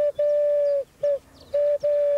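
A person whistles an imitation of the European turtle dove's song, a run of four sustained purring tones separated by short gaps, clear and close with no other sound around it.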